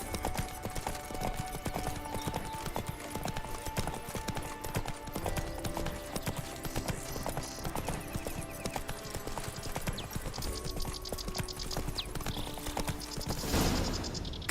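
In The Witcher 3, the horse Roach's hooves clip-clop steadily over a dense mix of game sounds and background noise, the hoofbeats continuous and fairly close throughout.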